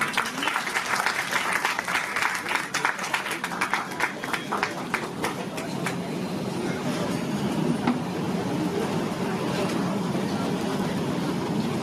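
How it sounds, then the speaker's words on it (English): A seated audience applauds at a Mumbai book launch event, a loud, sustained patter of many hands clapping that runs for several seconds, sharper at first and then settling into an even roar. "May I have a big round of applause for them?"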